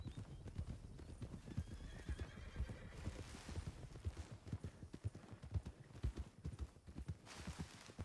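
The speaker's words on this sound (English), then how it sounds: "Oh, we got a horse here." Horse hooves clip-clop in a steady trotting rhythm in Red Dead Redemption roleplay, fairly close, with a whinny partway through; no talking.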